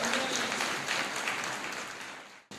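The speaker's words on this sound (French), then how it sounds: "Applaudissez très fort." A church congregation applauding in a sustained wash of clapping that slowly fades, then breaks off sharply at the end.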